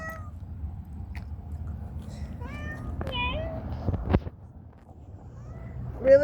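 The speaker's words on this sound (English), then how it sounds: "The cat just knows that we come back." A pet cat meows several times outdoors, short tonal calls over steady low wind and street rumble, fairly close but not loud, with no one talking.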